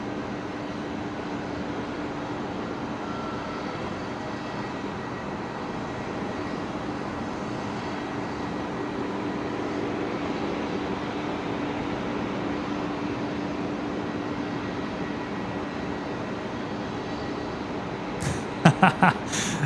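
Emirates airliner landing on runway 01 right at Brisbane Airport at twilight, a steady, continuous jet engine roar that holds at a moderate distance throughout, with a few sharp clicks near the end.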